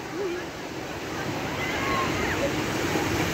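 Sea waves surging up a beach onto the spot where people had been sitting: a continuous close rush of surf and churning water, with faint voices mixed in.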